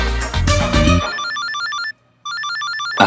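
A telephone rings in a warbling electronic pattern, two bursts separated by a brief pause, loud and close, following a louder musical sting at the start.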